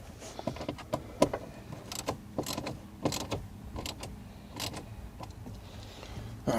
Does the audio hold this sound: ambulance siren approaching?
no